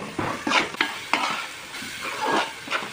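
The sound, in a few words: chili powder and tomato puree mixture frying in oil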